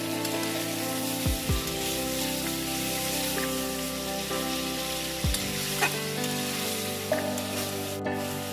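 Masala for Bengali prawn malai curry, with turmeric and sugar added, fries in a pan, giving a steady close sizzle with intermittent stirring scrapes and soft spatters.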